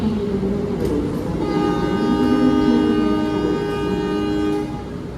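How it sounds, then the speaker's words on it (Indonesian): The Malioboro Express train departs from Surabaya station, its horn sounding a long sustained blast over the rumble and clatter of the moving train, loud and close. "Malioboro Express berangkat"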